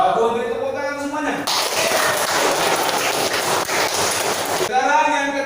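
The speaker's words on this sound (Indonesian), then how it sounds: "Beri tepuk tangan semuanya." Applause from a classroom of students, a dense burst of clapping lasting several seconds, with talk just before and after it.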